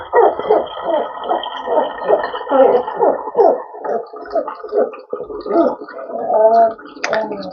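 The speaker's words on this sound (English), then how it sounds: "that strange noise you hear in the background is my dog Bosco" A dog makes odd hooting, gargling vocal noises in a rapid, uneven series, fairly close, with no talking.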